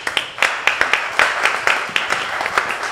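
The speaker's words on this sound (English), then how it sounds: "And let's give him a round of applause." A small audience gives a round of applause to welcome a speaker to the stage: a thin scattering of distinct, sharp hand claps in an irregular rhythm, close and moderately loud, without any talking.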